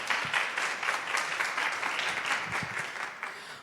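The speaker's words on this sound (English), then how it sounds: "please clap your hands for Laura Sanchez Fernandez" An audience applauds a speaker at a women-in-STEAM talk, dense even clapping from many hands that holds steady throughout and fades slightly at the end.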